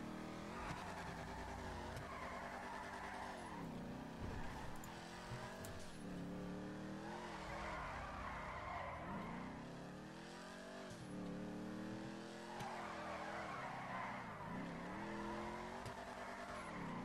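A sports car drifting in GTA 5, its engine revving and rising and falling in pitch while the tires squeal in long repeated bursts through each slide, loud and continuous with no talk.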